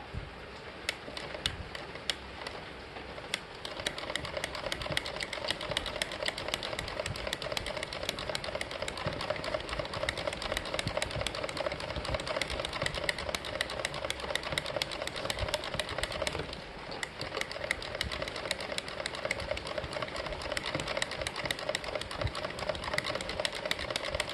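A hand-cranked coil winder winding a water pump coil whirs in a steady, continuous mechanical rattle with fine rapid ticking, close and even throughout, with only a brief dip before resuming.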